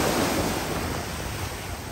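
Ocean waves on Vanderbilt Beach wash steadily in a broad, even hiss on a calm morning, with no voices over them.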